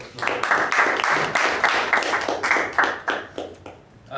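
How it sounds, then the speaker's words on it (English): An audience at a club meeting applauds, a burst of mixed clapping from a modest group that holds steady before thinning out toward the end. "A round of applause to"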